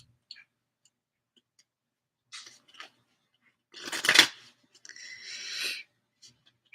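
Angel cards handled and shuffled on a tabletop, with a couple of soft taps early on, then a burst of crisp riffling and a longer papery shuffle, close and quiet, with no talking.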